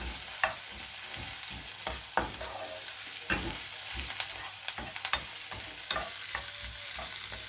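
Onions caramelise in a frying pan for a tartiflette tart, giving a soft steady sizzle with scattered scraping clicks as a utensil stirs them, close and moderately quiet.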